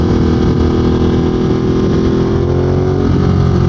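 A 2022 Ducati Monster motorcycle engine cruises in fourth gear, a steady, loud, close drone with a dense low rumble and no talk over it.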